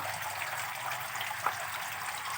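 A circulating water system runs in a golden apple snail tank, making a faint, steady trickle and gurgle of moving water with a brief splash near the middle, with no talk.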